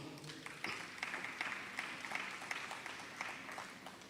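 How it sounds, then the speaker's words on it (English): Attendees at an automotive investor launch event give a round of applause, a faint, distant patter of clapping in a large room, steady for several seconds. "please give yourselves a round of applause"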